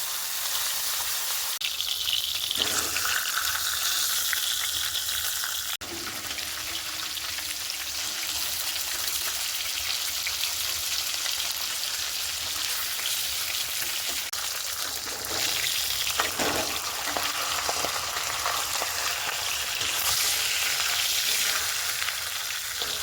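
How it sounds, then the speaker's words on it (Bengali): Pieces of katla fish frying in hot oil in a home kitchen, a continuous close sizzle and crackle with occasional louder spits and stirring bursts, steady throughout with no one talking. "কাতলা মাছ আমার এক পিস ভাজা হয়ে গেছে"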